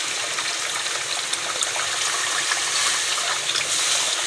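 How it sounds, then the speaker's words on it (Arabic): Water poured into a pot for Sayadiya rice makes a steady, close rushing splash that continues without a break. "بعد كده ننزل بالمية بتاعتنا"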